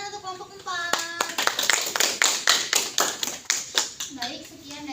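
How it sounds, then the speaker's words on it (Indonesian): A classroom group claps for a Biology class's group 4 presentation, with several people clapping in a loose, fast rhythm for about four seconds at close range. Children's voices speak briefly at the start and near the end. "beri tepuk tangan untuk kelompok 4"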